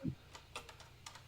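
Faint computer keyboard keys pressed in a few scattered taps during a game, each click quick and light against a quiet room.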